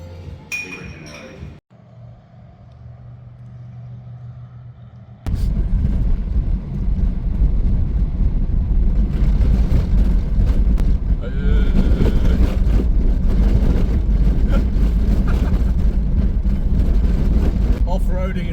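A Suzuki Swift driving off-road in Lincoln National Park: a loud, continuous rumble of engine and tyres over rough ground with clinks and rattles, starting after a quieter stretch of low hum and continuing steadily to the end.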